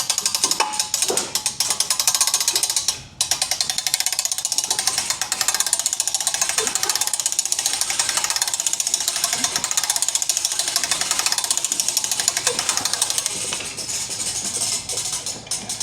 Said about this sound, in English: you're going to raise your winch cable up to your desired height